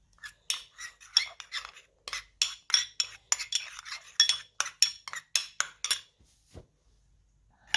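A homemade hand-care mixture is stirred briskly in a bowl, giving a steady run of close, sharp clinks and scrapes from utensil against the container, roughly two or three strokes per second, with no talking.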